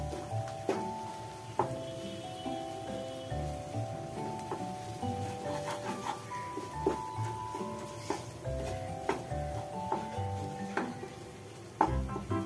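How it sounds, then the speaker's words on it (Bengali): Matar dal being stir-fried with spices in a kadai, a steady close sizzle with the scrape and clack of a spatula stirring throughout. "মশলাটার সঙ্গে মিশিয়ে কষাতে থাকবো"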